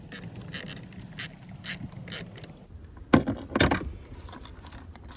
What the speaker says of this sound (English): Make sure you push it till it clicks.